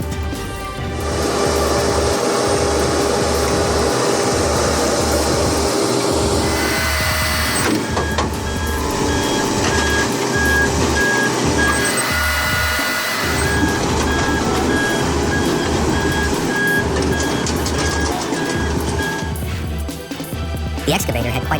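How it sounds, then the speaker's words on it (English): A John Deere 2000 excavator climbs onto a transport truck for oversize heavy-equipment hauling, its steady engine rumble and clanking joined by repeated reversing beeps, with a voice talking over it throughout. "The way the John Deere 2000 excavator climbs onto the truck is incredible."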